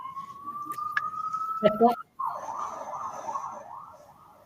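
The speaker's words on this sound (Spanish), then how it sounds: "Ha habido una ambulancia por ahí." An ambulance siren passes outside, a steady wailing tone heard faintly in the background while a person speaks briefly over it.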